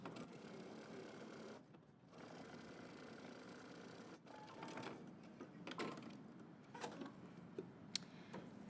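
A sewing machine runs steadily, stitching along an invisible zipper near its teeth, with a continuous mechanical whir interrupted by brief pauses and light ticking from the mechanism.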